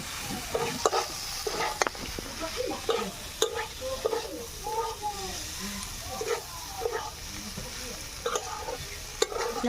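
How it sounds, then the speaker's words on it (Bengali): Fried chicken and boiled pasta being stirred together in a pan for chicken vegetable pasta, with a steady low sizzle broken by repeated scraping and clattering spatula strokes, close and moderately loud. "ভেজে রাখা মাংসটা আমি দিয়ে দেবো, দিয়ে একটু নাড়াচাড়া করে নেব"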